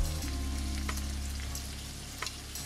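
Garlic cloves and radish greens fry in a pan with a steady, close sizzle throughout, broken by a few faint clicks of stirring.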